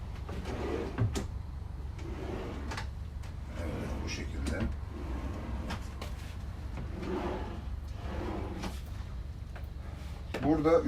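Drawers slide open and shut inside a bus converted into a motorhome, making a series of soft sliding thuds and knocks spread across the clip while someone talks throughout.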